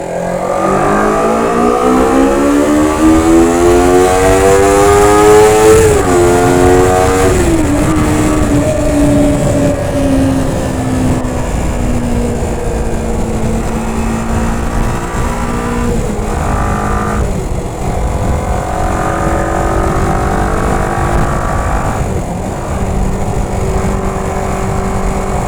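Kawasaki ZZR250 motorcycle engine running steadily at highway speed, around 6,000 RPM at 80 km/h, with a loud continuous drone whose pitch climbs through gear changes in the opening seconds, then holds steady with wind rush and no talking.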